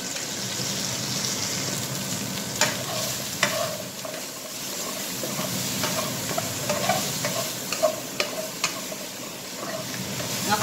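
Food frying in a pan over medium heat, a steady crackling sizzle with occasional louder pops and spatters, continuous and close.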